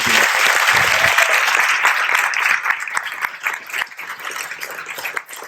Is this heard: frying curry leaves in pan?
no